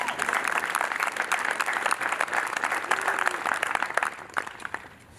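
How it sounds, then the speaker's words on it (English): A graduation ceremony crowd breaks into dense, sustained applause, many hands clapping at once for several seconds before fading away near the end, with faint voices mixed in. "we can give a round of applause for that."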